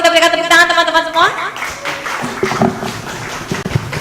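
A seminar audience at a national renewable-energy event at a university claps after a brief tone, a scattered round of applause that carries on at moderate volume.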